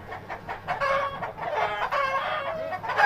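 Chickens cluck continuously at close range, a busy overlapping chatter of hens with fowl calls rising and falling throughout, no voices over it.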